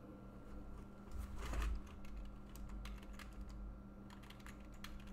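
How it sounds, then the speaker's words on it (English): Typing on a computer keyboard, a quiet, fast irregular patter of key clicks over a low steady room hum, with no talking. "Let's type it in, man."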